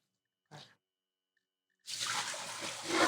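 Water used to wash fish is poured off into a sink disposal, a brief splash followed after a pause by a steady rushing pour that grows louder toward the end.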